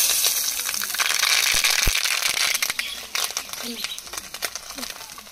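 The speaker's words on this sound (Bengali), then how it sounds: "তেলের মধ্যে গোটা সরিষা ফোড়ন দিয়ে দেবো" Whole mustard seeds tempering in hot oil, a loud sizzling hiss that thins into scattered crackling pops, with someone talking over it.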